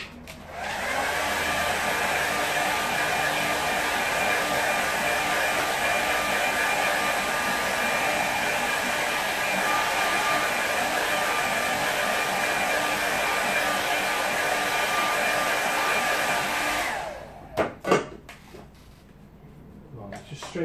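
A hair dryer blows steadily and loudly on a wet watercolour painting for about seventeen seconds, then cuts off, leaving a few brief clatters.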